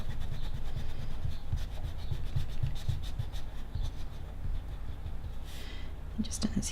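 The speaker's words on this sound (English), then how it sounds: "grab my rubber and just rub out these lines, these guidelines here." A rubber eraser rubs out pencil guidelines on paper while drawing an elf, a steady close scrubbing with rhythmic back-and-forth strokes, with a voice speaking over it.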